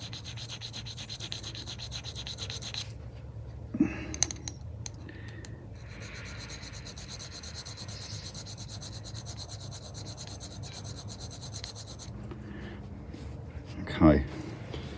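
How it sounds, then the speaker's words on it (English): Fishing hooks sharpened with a file while held in a vise, faint repeated rasping strokes beneath a steady background hum, with a couple of sharper scrapes and clicks. "people say that they can sharpen hooks without a vise"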